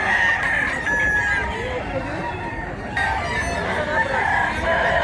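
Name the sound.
rooster crowing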